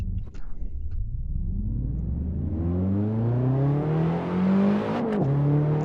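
A BMW E30 M3 engine in the Assetto Corsa racing game revs steadily upward with rising harmonic whine, a brief dip near the end as it shifts, then climbs again, loud and continuous with no talking.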